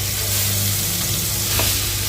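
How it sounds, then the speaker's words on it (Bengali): Onion, ginger-garlic paste, tomato and green chilli fry together in a pan for chana masala, giving a loud, dense, continuous sizzle close by with a brief stir partway through. "পেঁয়াজ, আদা, রসুন, টমেটো, কাঁচা লঙ্কা খুব ভালোভাবে ভাজা হয়ে গেছে"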